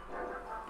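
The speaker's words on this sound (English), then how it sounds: "Listen to that music. It's dog barks." Soft, rhythmic dog barks woven into the background music of the video game Undertale, a quiet musical loop with bark-like tones and no talking.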